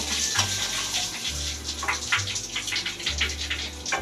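A tap runs steadily with a continuous rushing gush of water, fairly close, while a low droning hum switches on and off underneath.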